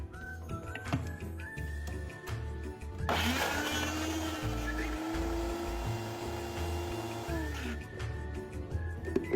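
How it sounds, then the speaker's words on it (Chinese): A kitchen blender grinds finely chopped cassava into a paste, a loud whining motor roar that starts abruptly, runs for several seconds with a steady pitch, then winds down, with quiet kitchen clatter before and after. "木薯前后分2次倒入搅拌器"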